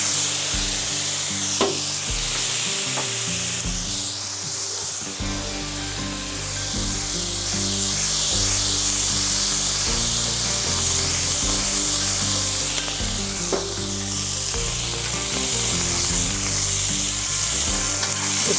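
Corn tortilla shells fry in oil seasoned with adobo paste and chipotle peppers, a steady loud sizzle running throughout with occasional sharper pops and scrapes of stirring.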